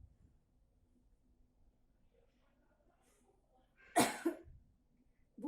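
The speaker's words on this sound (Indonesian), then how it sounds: "Pada saat setelah ditahan itu mengeluarkan batuk secara maksimal" A person gives a single forceful, deliberate cough after holding a deep breath, a sharp loud burst following near-silent breathing, then a brief exhale.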